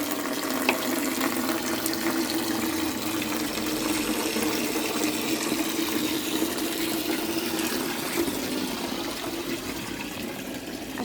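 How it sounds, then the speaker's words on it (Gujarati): Water is poured onto a tulsi plant outdoors, a steady continuous splashing trickle that holds evenly, close and moderately loud, with no talking over it. "આપણે તુલસી માને પાણી પાઈ દઈએ"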